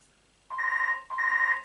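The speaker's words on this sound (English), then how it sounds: "it was the phone ringing again" A home telephone rings in two electronic trilling bursts, the second following after a brief gap, clear and moderately close in an otherwise quiet room.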